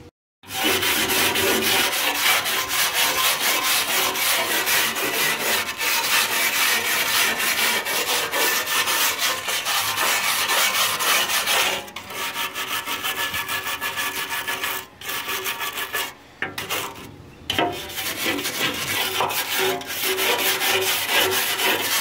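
A BBQ pit smoker is scrubbed clean with a loud, close, steady rasping back-and-forth rubbing, broken by a few short pauses in the second half; no talking.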